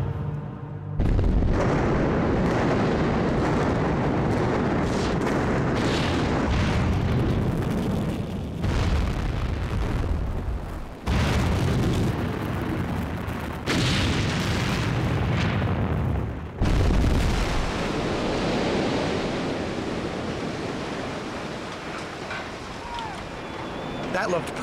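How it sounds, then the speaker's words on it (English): Explosive demolition of a skyscraper: a series of loud booming blasts in quick succession, each cutting in abruptly, followed by sustained rumbling of the collapse that slowly fades. "The machine has the button which triggers the detonation."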